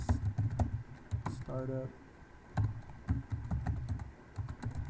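Keys clatter as a router command is typed on a computer keyboard, quick irregular taps under a voice speaking throughout.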